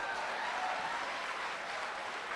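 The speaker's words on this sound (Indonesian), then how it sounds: "Tepuk tangan semuanya" A crowd applauds steadily at a motivational talk, a dense, even wash of clapping that holds at moderate level throughout without pause or voices.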